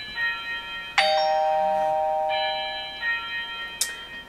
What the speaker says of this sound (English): what you should hear is the standard wireless doorbell